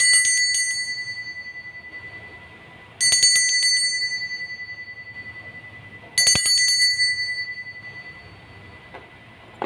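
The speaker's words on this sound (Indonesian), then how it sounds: "Kita akan memulai dengan ditandai lonceng berbunyi." A bright bell rings three times at even intervals, each strike ringing out and slowly fading before the next.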